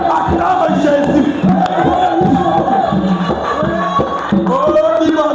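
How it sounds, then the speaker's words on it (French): A church congregation cheers and shouts in praise, a dense, continuous wall of many voices rising and falling close by without a pause. "Il faut acclamer pour Jésus."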